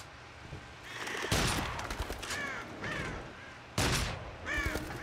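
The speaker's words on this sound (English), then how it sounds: "birds all getting in my face" Crows cawing and wings flapping close by inside the horror shooter Until Dawn: Rush of Blood, harsh caws and bursts of flutter repeating over a dark game ambience.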